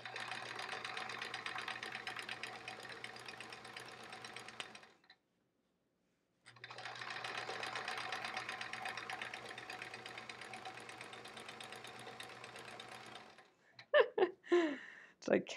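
A sewing machine running steadily while free-motion quilting and couching threads over star shapes on a baby quilt, a long continuous whir that stops briefly and starts again, then ends with some close handling clatter.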